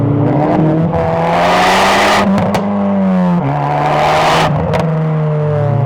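A Stage 3 tuned Audi S1 accelerating hard, its loud, close engine note climbing steadily in pitch, with brief breaks for gear shifts before it pulls again, filling the whole stretch without speech.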